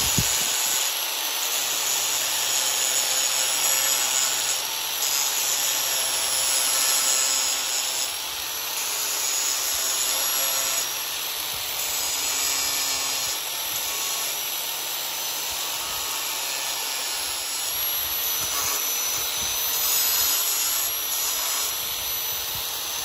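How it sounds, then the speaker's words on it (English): A steel file has its corners ground off on a grinder, a loud continuous abrasive whine that holds steady with slight swells, and no talking. "Now you want to be very careful when you grind these filings off the sides."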